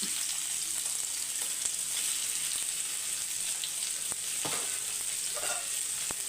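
Small and large fish frying together in a pan over a low flame give a steady, quiet sizzle with occasional soft pops, heard up close with no voices.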